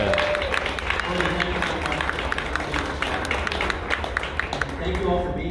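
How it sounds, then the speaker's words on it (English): Scattered applause from a festival audience, with individual claps audible over a busy crowd murmur and some talking mixed in, moderately loud throughout. "I think we need another round of applause for Courtney"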